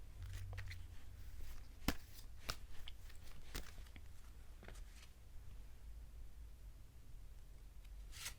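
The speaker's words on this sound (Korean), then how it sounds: "그럼 일단은 추억 카드도 좀 더 뽑아보도록 할게요." Tarot cards are shuffled and drawn on a table, giving scattered soft snaps and flicks at irregular intervals over a low, steady background hum, close and fairly quiet, with no talk.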